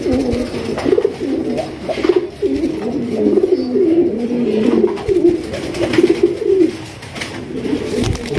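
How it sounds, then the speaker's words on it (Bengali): Rasgolla pigeons coo in a steady, overlapping run of low throaty calls, close and fairly loud, continuing for several seconds with short pauses and no voices. "এখানে রয়েছে চমৎকার আরো একটা কালারিং রাসগোল্লা কবুতর"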